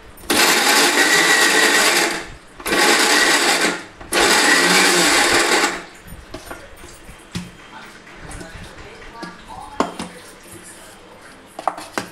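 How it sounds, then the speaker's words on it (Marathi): A mixer grinder coarsely grinds masala for a bottle gourd kofta curry in three loud, short bursts, each about two seconds with brief pauses between. After the last burst come quieter kitchen clatter and handling noises. "तर थोडं थांबून थांबून मिक्सर चालवायचा"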